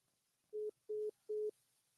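Three identical short telephone tones beep in an even rhythm after a dropped phone call, each clean and loud against near silence.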